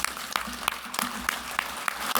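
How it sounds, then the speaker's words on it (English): A lecture audience gives a short round of applause, light scattered clapping with a few distinct claps, moderately close. "Can we give him a round of applause?"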